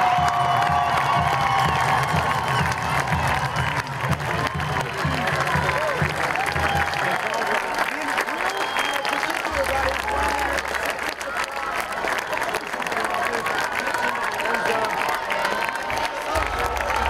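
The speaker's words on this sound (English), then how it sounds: "Can we have everybody stand and give Adrian a standing applause?" A high school football crowd rises for a sustained standing ovation, with dense applause, cheering and scattered shouts and whoops rolling on for a long stretch, some of them children's voices, while voices carry in and out above the din.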